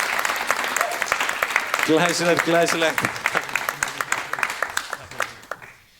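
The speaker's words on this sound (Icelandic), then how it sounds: "gefið þeim gott klapp" Audience applause at a live hypnosis stage show in Iceland, a burst of clapping swelling and then fading out, heard under a voice speaking over it.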